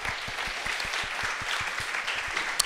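An audience at a French talk show applauds in a steady wash of clapping, moderately loud and even throughout, with no voices above it.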